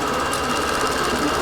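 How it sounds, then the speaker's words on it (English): A sewing machine stitches a quilt, running loud and close with a fast, steady mechanical rattle that does not let up. "I'm going to continue sewing and see if I can finish it without any more hitches."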